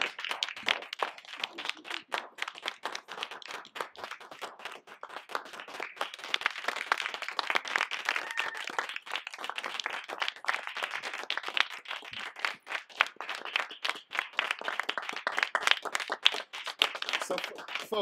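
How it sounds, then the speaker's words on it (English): An audience at a storytelling event gives the whole group a long round of applause, dense fast clapping rising and falling in intensity with a few voices mixed in underneath. "What I want to do is get everybody up here for a big round of applause for the whole group."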